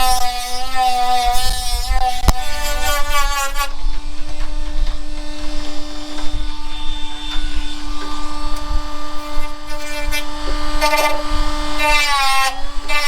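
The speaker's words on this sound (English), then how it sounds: "We'll switch out the Dremel to the sanding wheel and go take care of that." A Dremel rotary tool with a sanding wheel whines steadily at high pitch, its tone shifting as it grinds against an RC car part, close and continuous.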